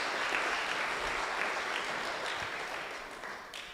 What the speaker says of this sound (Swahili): tuwapiga makofi